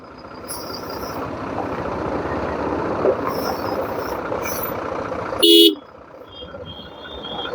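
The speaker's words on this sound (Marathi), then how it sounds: "बाबा एवढे मोठे मोठे ट्रक आहेत" Big trucks passing on a road near a just-opened railway crossing, a rising rumble that swells past, then a sharp loud honk, then quieter traffic noise, with faint voices.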